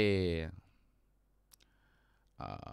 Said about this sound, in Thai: เอาเมาส์ไปคลิกใส่